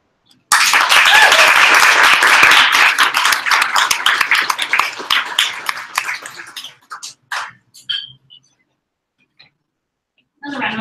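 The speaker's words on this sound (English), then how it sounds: "Another round of applause for Emily." Dense, loud applause from a literary salon audience after a reading, starting abruptly and sustained for several seconds before breaking into scattered claps that die away, with a brief voice returning at the very end.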